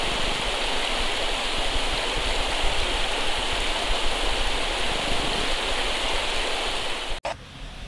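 Steady, full rush of the Yuanjue waterfall and its stream on a mountain trail near Taipei, a constant broadband roar close by, with a brief dip and knock near the end.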